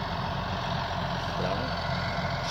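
A Case IH Magnum 280 tractor pulling a harrow with a bent frame runs nearby on a rural road, its engine giving a steady, fairly loud diesel drone with no breaks and no voices.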